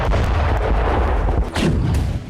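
Russian artillery fire in Donetsk during the war with Ukraine, heard as a loud, deep booming blast with a sharp burst partway through, alone with no voices.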